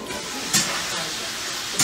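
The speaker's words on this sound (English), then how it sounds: "Those delicious veggies are sizzling over there, working away." Steady broadband hiss of vegetables sizzling in a pan, continuous throughout with a couple of brief louder bursts.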